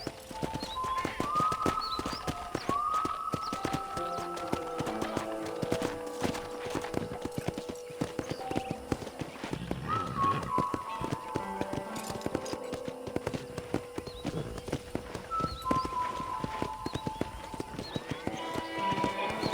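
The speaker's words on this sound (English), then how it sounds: "let's see if you can still ride a horse" Horse hooves clip-clop steadily through a ride in the Red Dead Redemption video game, near and continuous, with background music and ambient tones underneath.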